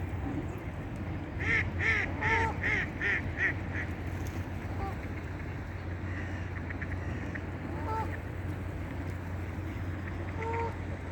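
Ducks quack in a quick run of repeated calls, then give scattered single quacks over a low steady background hum, in France.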